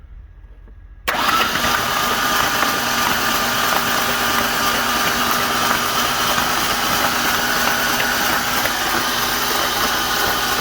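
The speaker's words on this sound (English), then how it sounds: "go ahead and crank it over some more" A hydrolocked engine being cranked over with the starter, a steady, loud mechanical churn that begins abruptly after a second of near silence and runs on without a break.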